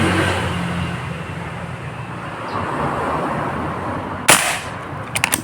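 A single sharp crack from a Yumaja Sempiternal air rifle fired at a paper target, standing out from a steady low background hum and followed by a few small, faint clicks.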